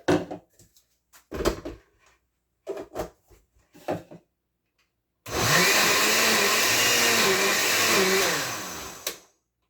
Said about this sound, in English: I'm gonna put it in the blender and kind of till it out for a little.